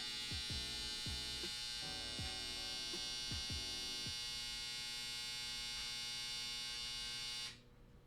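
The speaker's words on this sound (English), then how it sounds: "That was my washer." A washing machine runs in the background with a steady tonal hum and buzz, broken by several soft rhythmic thumps early on, until the sound cuts away near the end.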